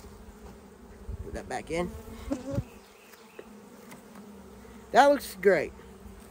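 Honey bees buzz steadily around an opened hive during an inspection, a low continuous drone running beneath the beekeeper's voice, which rises loudly near the end.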